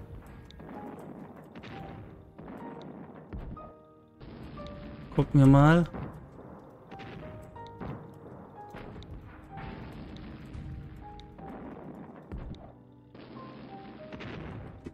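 Gunfire in the WWII strategy game Sudden Strike, a few faint distant shots scattered under steady German commentary, with one brief louder burst in the middle.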